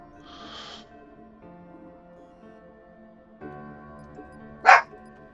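A dog barks briefly in a room, a soft early burst and then one sharp, louder bark near the end, over a steady background of space-battle game music and tones.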